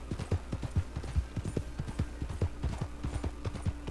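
Horse hooves clip-clop steadily in Red Dead Online, a Norfolk Roadster racing along in quick, regular beats that stay close and even, with no voices.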